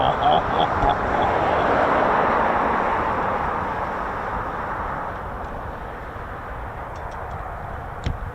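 A US Air Force C-17 heavy military transport of the Heavy Airlift Wing starts moving, its engines giving a broad rumbling roar with a whining tone, loud at first and gradually easing; people talk faintly.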